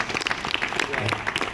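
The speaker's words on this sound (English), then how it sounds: "I think another round of applause for that, guys." An audience gives a short burst of applause for road racers at a post-race interview, a brief patter of clapping from a small group nearby.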